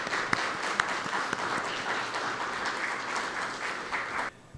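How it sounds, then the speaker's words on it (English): An audience at an Arangetram Bharatanatyam dance recital gives sustained applause, with a few sharp claps standing out before it cuts off near the end. "give a big applause to our Guru, Sneha"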